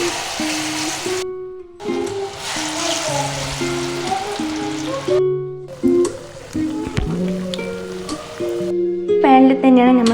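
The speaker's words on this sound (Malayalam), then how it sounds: "എണ്ണ ചൂടായതിനു ശേഷം മുറിച്ച് വെച്ച പഴം അതിലേക്ക് ഇടുക" Sliced banana dropped into hot oil for a sweet Kerala kaipola, hissing and sizzling steadily like rain on a surface, close and fairly loud, under a layer of background music.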